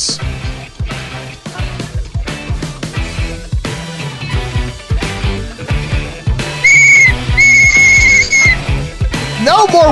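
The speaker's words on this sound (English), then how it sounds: "No more whistles." A shrill whistle blows in short bursts in a studio setting, rising above loud music and voices, with sustained high piercing tones near the end.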